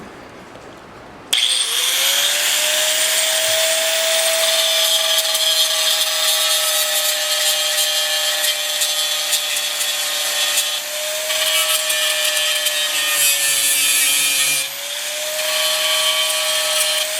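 A grinding wheel works warped wood for an outhouse build, giving a loud, steady, continuous grinding whine close by that holds for most of the stretch, with brief dips near the end and no talking.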